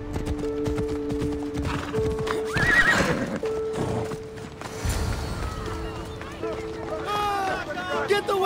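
Horse hooves clip-clop and a horse neighs in Assassin's Creed Odyssey, a PC action game, with a high whinny near the end over continuous game ambience and a rhythmic galloping patter.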